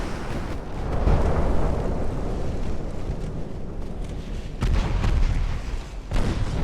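Torpedo hits and naval explosions in the naval warfare game Ultimate Admiral: Dreadnoughts, a continuous heavy rumbling roar of distant blasts with a fresh deep boom swelling near the end.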